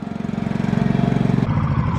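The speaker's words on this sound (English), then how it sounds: "here comes my amazing little girl driving the tractor" A small tractor engine runs steadily and close by as a young girl drives it across a farm on a warm summer day, its rhythmic low chugging staying loud throughout.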